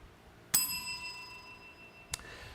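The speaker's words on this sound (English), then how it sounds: "every time one goes, we ring the bell" A bell rings twice in a TV studio during an anniversary special broadcast: a bright, ringing strike that decays slowly, then a shorter second ring about a second and a half later, with no talk over it.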